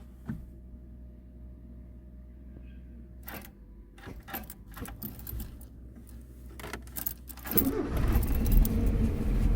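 Keys jingle and clicks sound before an abandoned Mazda 323 Familia engine, unstarted for five years, cranks briefly and catches, settling into a loud, rough idle that fills the end.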